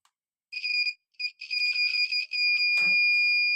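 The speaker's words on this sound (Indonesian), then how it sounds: "Kemudian ini langsung naikkan ke buzzer." A multimeter in buzzer (continuity) mode beeps during an Asus laptop repair, giving several sharp, high electronic tones in short bursts, then a longer sustained beep with a brief clatter underneath.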